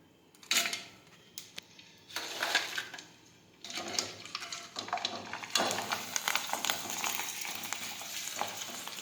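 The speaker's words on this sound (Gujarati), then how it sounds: "હવે આપણે તેમાં ફરફર છે તે તળી લેશું" Hot oil sizzles and crackles as sago snacks fry, the hiss swelling in bursts after short pauses, with occasional scraping of a utensil in the pan.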